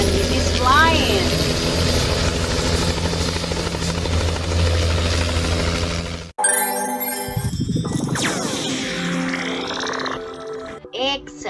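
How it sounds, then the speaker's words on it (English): A steady helicopter rotor drone with engine buzz, then an abrupt cut to a different busy passage with chirping, sweeping electronic sounds. "We have here another helicopter. And it is flying."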